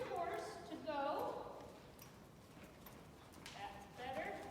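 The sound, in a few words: horse hooves clip-clopping as it moves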